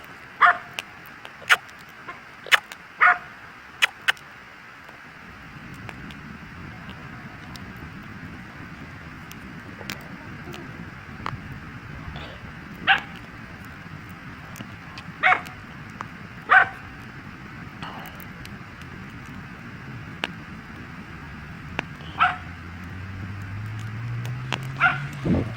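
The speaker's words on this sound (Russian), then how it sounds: "А на другой стороне речки другая собака гавкает на ту собаку, что с селянкой." A dog barks from across a river in repeated sharp, distant yelps, clustered early then spaced out, over a low steady outdoor hum with a faint passing vehicle near the end.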